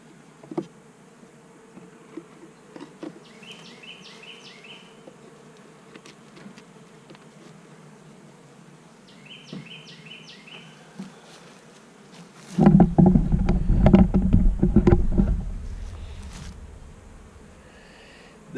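Honey bees at an eight-frame hive make a faint, steady buzz, with a louder burst of close rumbling and handling noise near the end.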